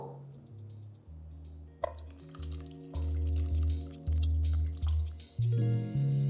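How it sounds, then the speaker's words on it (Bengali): Buttermilk poured into strained pancake batter in a home kitchen, a close liquid stream with drips, plops and a soft rising fill sound that grows steadier and louder over several seconds. "আর ছেঁকে নেওয়ার পরে আমি এখানে অ্যাড করে দেবো আগে থেকে বানিয়ে রাখা বাটার মিল্কটা"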